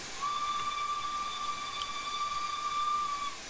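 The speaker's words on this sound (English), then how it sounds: "let's do a two of the whistle" A steam whistle on an LNER Thompson Class B1 locomotive in Train Simulator gives one clear, sustained shrill tone of about three seconds over a soft background hiss.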